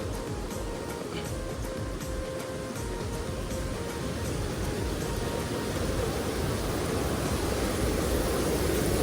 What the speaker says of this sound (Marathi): आपण इकडशी जरा धबधबा बघूया